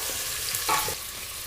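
Chopped onions sizzle in hot oil in a pan for lemon pepper chicken, a continuous moderate hiss with a short louder flare of crackling and faint stirring noises; no one speaks.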